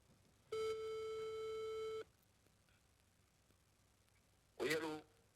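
A telephone call being placed: a loud electronic tone holds steadily for about a second and a half, then goes quiet before a burst of voice breaks in near the end.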